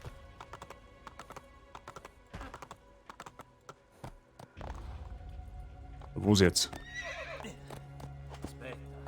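A horse in the video game Assassin's Creed II clip-clops with scattered hoof taps and then lets out a loud whinny midway, while someone speaks briefly and keyboard tapping is heard.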